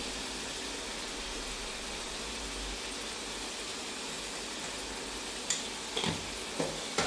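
A Bengali chicken curry masala of turmeric, chili powder and salt fries in hot oil while being stirred, making a steady hissing sizzle with a few light scraping clicks near the end.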